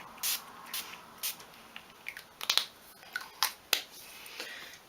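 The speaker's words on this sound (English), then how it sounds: "So I'm just going to spritz this all over my face." Setting spray spritzed onto the face in a summer makeup routine, heard as a series of short, soft misting hisses, several quick pumps spaced irregularly over a faint room background.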